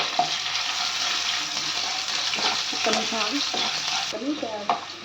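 Cumin seeds and curry leaves sizzling and frying in hot oil in a pan, a steady close crackle with occasional stirring scrapes and a few faint background voices.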